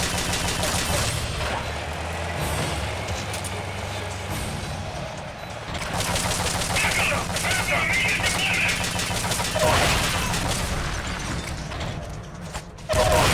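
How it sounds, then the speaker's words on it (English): Machine gun fire in the video game Metal Gear Solid: Peace Walker: sustained rapid bursts of gunfire over heavy, dense game noise and engine rumble, loud and continuous, with a few brief electronic tones. "Why is this thing's machine gun so deadly compared to most of the other times I've fought anything with a machine gun?"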